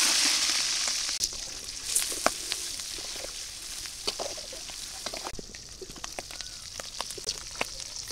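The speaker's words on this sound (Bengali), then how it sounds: "তেল গরম হয়ে গেছে, এখন আমি চিংড়ি মাছ দিয়ে দেই" Prawns fry in hot oil in a wok, a steady close sizzle broken by frequent sharp crackles and pops.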